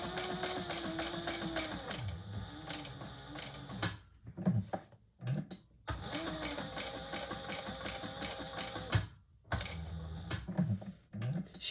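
A sewing machine stitches a fabric waist pack in close, rapid mechanical runs of several seconds each, broken by brief pauses and fabric handling.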